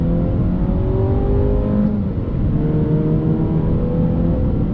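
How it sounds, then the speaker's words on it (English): A 2020 Jeep Renegade with a 9-speed transmission accelerates under throttle; the engine drones steadily and loudly, its pitch climbing and shifting throughout, heard alone without talk. "But on throttle, that 9-speed drops down."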